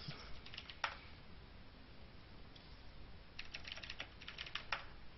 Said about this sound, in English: sorry I missed that because I was typing a million different things